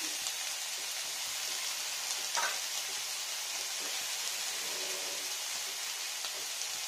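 Masala with tomato fries in a pan for a spiced egg dish, giving a steady, loud, hissing sizzle throughout with a few faint clinks and no talk.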